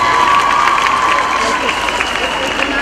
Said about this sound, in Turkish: O bakımdan onlara büyük bir alkış.